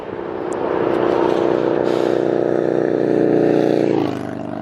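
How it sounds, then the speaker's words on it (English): A motorcycle passes on a freeway, its engine drone swelling to a loud, steady roar and then dropping in pitch and fading as it goes by. "And here's the motorcycle coming."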